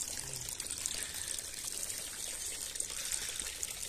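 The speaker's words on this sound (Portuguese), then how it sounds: "Engatou a mangueira no adaptador azul. Com a luva cole rosca. E tá caindo água aí já." Water pours from a hose fitted to a blue adapter into a rooftop aquaponics system, a steady close hiss and trickle running continuously without pause.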